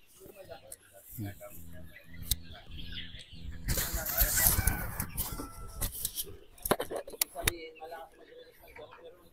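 Chicks peep and chickens cluck on a ready-to-lay chicken farm, with a rush of louder flock noise in the middle. People talk over the birds throughout.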